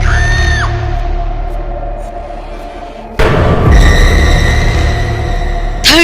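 A woman's scream rings out in a foggy forest near a village in a Hindi horror tale, loud shrieking bursts over a droning, eerie background, with a sharp thudding hit midway.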